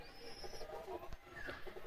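A Madras pigeon chick, a young black-grained pigeon, coos in soft low repeated notes, close by, against a steady background hum with faint higher chirps.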